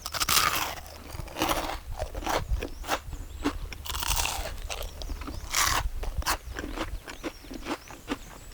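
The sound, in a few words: crunchy fried spring greens tempura being chewed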